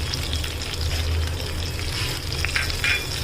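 Cumin seeds and urad dal sizzle in hot oil for a tomato pickle, a steady close crackling fry with faint stirring throughout.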